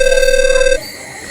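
A telephone rings while a call is being placed, a steady electronic tone that cuts off partway through, followed by a quieter stretch and a brief click.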